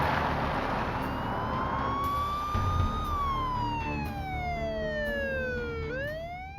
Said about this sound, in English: Trooper Begiebing goes from a Code 2 to a Code 3 response, using his lights and siren.